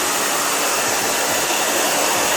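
Steady, loud hair dryer blowing close by, drying a woman's thick, curly pixie-cut hair, a constant broadband whoosh with no talk.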